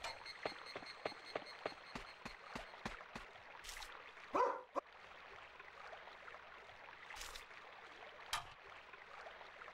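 Dougie the dog barking in the video game Boku no Natsuyasumi 2, a run of short, evenly spaced yips and barks early on, then a few scattered ones over a faint outdoor bed with a soft stream-like hiss.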